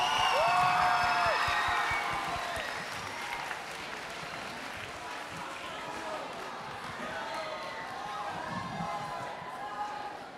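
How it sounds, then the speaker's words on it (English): An audience at a school talent show final claps and cheers at the close of a performance, loud applause with whoops that fades into scattered clapping and crowd noise while a host speaks over it. "Give them another round of applause"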